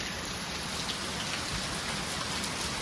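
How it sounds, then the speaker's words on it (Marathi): Heavy rain pours steadily at an evening hillside resort in Karjat, with the hill wrapped in mist; a dense, continuous wash of drops drums on surfaces at close range, with no voices over it. "तो मित्रांनो तुम्ही बघताय पाऊस जोरदार सुरू आहे"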